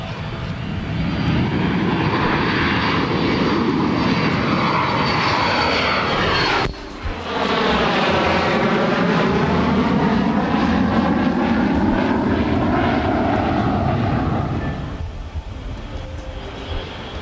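A Delta passenger jet lands at National airport, its loud engine whine sweeping in pitch as it passes close by, swelling to a roar and then fading toward the end.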